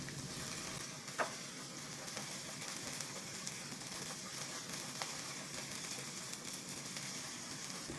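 Garlic sizzles in a wok for shrimp and egg fried rice, a steady, bright frying hiss that fills the whole stretch, broken by one sharp clink of a utensil, with no talk.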